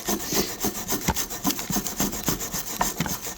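Rust is scrubbed off the rear brake hardware of a 2004 Buick Century: brisk, rhythmic back-and-forth scraping strokes, close and loud, about two or three per second, with no talking.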